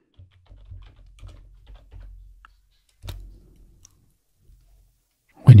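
Soft, sparse keystrokes on a computer keyboard typing a short command, a few scattered taps in quiet, ending with a sharper louder click.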